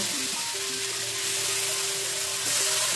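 Grated carrot fries in ghee with cardamom and cinnamon for carrot halwa, giving a steady, close sizzle that holds evenly throughout with no talking.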